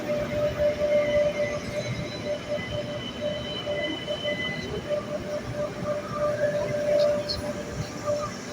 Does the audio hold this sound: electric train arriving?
yes